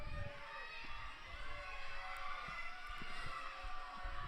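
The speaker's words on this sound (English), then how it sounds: "His teammates cheering him on the side" Teammates cheer on a swimmer from the poolside during a 200-meter freestyle race, a steady hubbub of crowd noise and shouting voices in a reverberant hall, continuous at a moderate distance.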